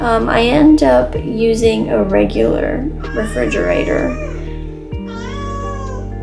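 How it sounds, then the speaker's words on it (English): A pet cat meows several times in the background of a room, faint wavering cries under a person talking steadily, with soft game music underneath. "If you hear my cat in the background, she's mad at me because I'm not laying down yet."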